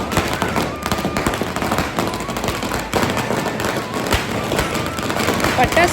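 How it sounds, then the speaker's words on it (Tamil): Dense, continuous crackling of Diwali firecrackers going off in rapid bursts, loud and close, with faint voices mixed underneath. "அவர் பட்டாசு வைக்கவும்"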